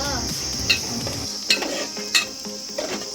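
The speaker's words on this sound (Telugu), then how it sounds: "ఇప్పుడు మంచిగా కలుపుకుందాం. ఒక బ్రౌనిష్ కలర్ వచ్చేంత వరకు కలుపుకుందాం." Onions for an egg fry are stirred in a hot pan. A utensil scrapes and knocks against the pan in a few distinct strokes over a steady close sizzle, with no voices.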